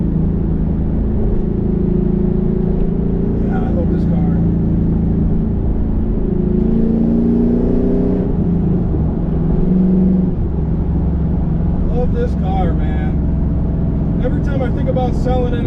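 A 2001 Pontiac Trans Am drives along a road, its engine droning loud and steady with the revs rising and falling, heard from inside the car while a person talks over it.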